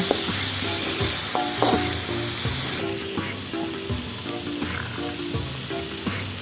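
Spice paste stir-fried in a hot pan for a vegetable and meatball soup, a steady close sizzle with the spatula scraping and clinking in an irregular rhythm throughout.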